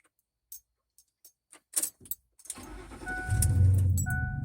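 A car's ignition: a few key clicks and ticks, then the starter cranks and the engine catches into a steady idle, close by, no talk.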